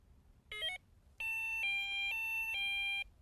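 A Delkim TXI Plus carp-fishing bite alarm gives a short electronic warble, then a longer series of steady high-pitched tones in quick stepped bursts, clear and close in a quiet room.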